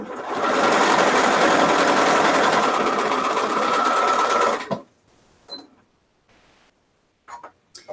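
A sewing machine stitches a quilt in a loud, steady run of about four and a half seconds, then stops; a few faint clicks and brief handling sounds follow in near silence.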